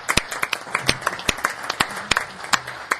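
At a city council meeting, a small group claps in a round of applause, sparse individual hand claps ringing out clearly and irregularly in a reverberant room, fairly loud and near.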